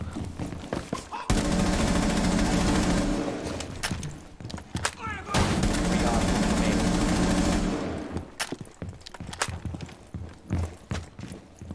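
Rapid automatic gunfire in the Operation Steel Wave video game, two long sustained bursts of dense shots separated by scattered single cracks and short pauses.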